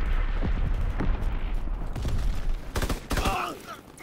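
Mortar blasts and gunfire in the World War II shooter game Call of Duty: WWII, with booming impacts and rapid bursts of shots layered in a dense, loud battlefield din, a sharp crack late on.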